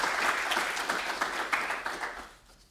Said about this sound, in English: please, guys, a round of applause also for Tiago before we move to the next speaker